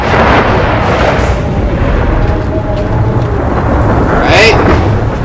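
Thunderstorm in Gears of War 4, a loud continuous roar of rumbling thunder and wind-driven rain, dense and close, with voices speaking underneath.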